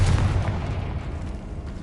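A Confringo blasting spell goes off in Hogwarts Legacy, a dense booming explosion that rolls on as a sustained low rumble for nearly two seconds, loud and close, with no talk over it.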